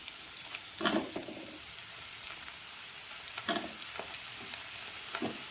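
Cut potato pieces stir-fried in a pan for a potato and ridge gourd bajji dish, with a soft sizzle under scattered scraping clicks of a spatula in a few short bursts, close and fairly quiet.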